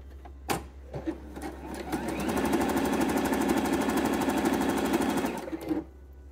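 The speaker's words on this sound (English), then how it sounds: "you're just going to realign and start sewing again" A sewing machine stitches a swimsuit bottom, starting with a few clunks and then settling into a loud, steady, rapid mechanical whirr that runs for several seconds before stopping abruptly.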